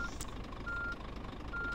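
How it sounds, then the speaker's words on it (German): Truck reversing beeps from a truck driving video game: a steady high electronic tone pulses in separate beeps, fairly loud and alone over a low rumbling engine background. "Können wir mal das Gepiepe ausmachen, das nervt."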